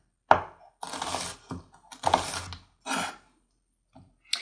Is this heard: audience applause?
no